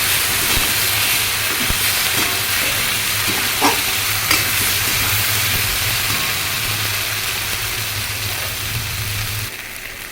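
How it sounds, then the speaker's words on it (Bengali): Fried potatoes are stirred into a sizzling spiced masala in a pan for Bengali dhokar dalna, producing a constant oily crackle with scraping spoon strokes and occasional sharper knocks, close and steady until it cuts off near the end. "আমি এর মধ্যেই আলুগুলো, ভাজা আলুগুলো দিয়ে দিলাম, দিয়ে এইটা নাড়াবো।"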